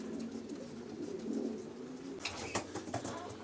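Pigeons coo softly in a breeding loft, low, throaty calls close by, followed by a few sharper flutters and clatters near the end.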